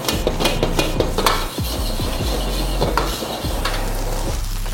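Nasi goreng stir-fried in a hot wok sizzles loudly while a metal utensil scrapes and clanks against the pan in rapid, repeated strokes, with the rice tossed and flipped.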